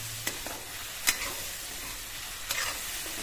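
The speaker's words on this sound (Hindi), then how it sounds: "और ऐसे ही चलाते रहेंगे, आलू कढ़ाई को ना पकड़े" Potatoes fry in a kadai for an aloo palak sabzi with a soft continuous sizzle, while a spoon scrapes and stirs in a few brief clinks, fairly quiet with no talk.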